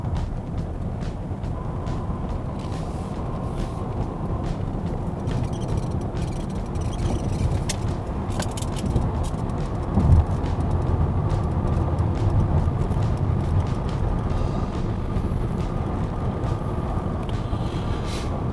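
Steady road and wind rumble inside a Hyundai Ioniq 9 performance dual-motor electric SUV as it speeds up on a highway exit ramp, a continuous broadband drone with one brief bump partway through and no talking.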